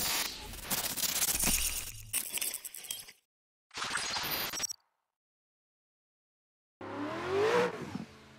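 An RTR car driven hard in a racing sim played on a Moza R9 wheel: loud engine roars in bursts, separated by abrupt silences, and a final surge with a rising tire squeal.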